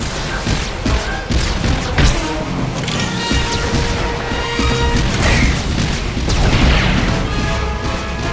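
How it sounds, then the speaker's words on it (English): Heatseeker missiles explode in Star Wars: The Old Republic combat, a dense roar of booms, crashes and thuds layered over continuous battle noise and music, loud and sustained throughout. "The Mercenary fires off a few Heatseeker missiles"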